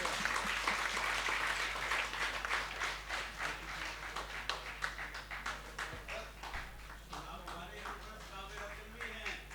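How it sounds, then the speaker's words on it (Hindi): Audience applause for a poet at a Hindi poetry recital, a lively burst of many hands clapping that gradually thins, with some murmured voices and a low steady hum beneath. "अनिल रघुवंशी जी के लिए जोरदार तालियां आपकी"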